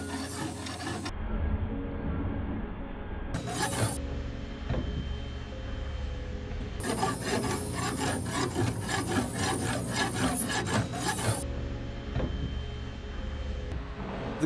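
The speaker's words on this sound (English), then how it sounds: "flattening the links through filing" A hand file rasps steadily across the links of a heavy gold Cuban link chain clamped in a vise, with repeated scraping strokes in rhythmic bursts, close and continuous for the whole stretch.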